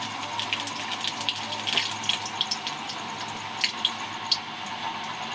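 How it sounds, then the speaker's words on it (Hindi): Garlic and cumin seeds drop into hot oil in a home kitchen, giving a steady, close sizzle and hiss with scattered sharp pops and crackles throughout, without talk. "तेल मेरा हो गया, मैं डाल रही हूँ लहसुन और जीरा"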